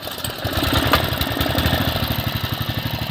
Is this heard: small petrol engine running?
yes